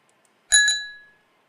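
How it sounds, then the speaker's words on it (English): A single loud, AI-generated boxing-style bell is struck once, ringing bright and close before fading into a long decaying tone, alone with no talk. "Loud bell."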